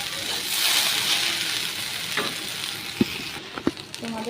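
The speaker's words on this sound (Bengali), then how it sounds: "ভেন্ডি ভাজা বসিয়ে দিয়েছি" Okra fries in a wok, a steady close sizzle running throughout, joined near the end by a few sharp metallic clinks of a utensil against the pan.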